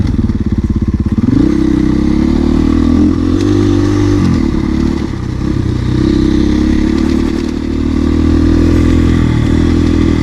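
A modified 2021 KTM EXC-F 500 rides along a gravel road, its engine droning loud and close throughout with a brief rev change early on.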